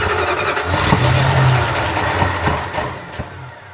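A 1976 Dodge Adventurer pickup, parked for 13 years, cranks over with a steady mid-pitched engine churn and a few sharper catches, close and loud with no talk.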